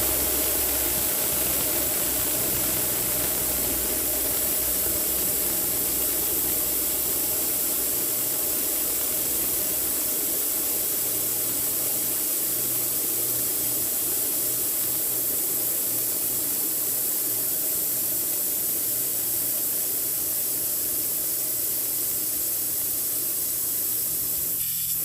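Air rushes out of a Yamaha XSR900 motorcycle tire valve with the core unscrewed, a steady loud hiss that runs unbroken for the whole stretch, close up, with a faint low hum beneath.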